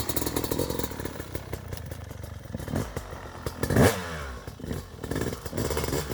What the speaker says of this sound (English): we got Travis here on his 2021 YZ250X kickstart machine